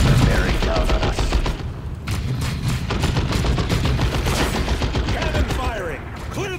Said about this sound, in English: Cannon firing! Clear the target area!